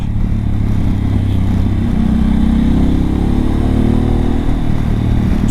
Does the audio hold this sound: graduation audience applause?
no